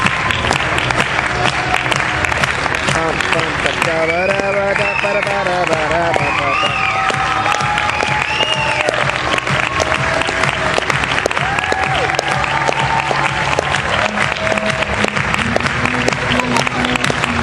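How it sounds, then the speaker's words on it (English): A school audience applauds after a middle school play, loud, dense clapping running steadily throughout while people nearby talk and call out over it. "Some people are clapping out of tune."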